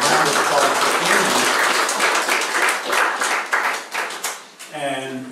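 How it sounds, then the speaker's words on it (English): An audience claps for the artist Amy at a talk, a dense round of applause that thins and fades out, with a voice starting up just at the end. "So let's all give a round of applause to Amy."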